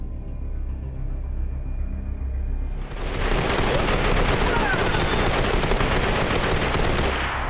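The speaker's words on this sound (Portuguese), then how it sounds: "É tu, Tuan, atirando" In the video game DayZ, a quiet, low ambience suddenly gives way to loud, sustained gunfire, rapid automatic bursts that stay dense and close until the end.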